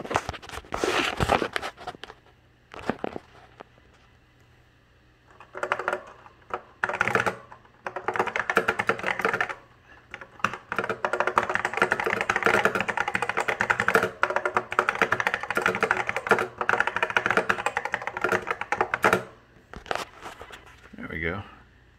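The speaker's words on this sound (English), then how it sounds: "I can type a lot faster with both hands." Fast typing on the keyboard of a 1984 Apple Mac 128k: clusters of clicky keystrokes in dense bursts, near and crisp, with pauses between runs and someone talking over parts of it.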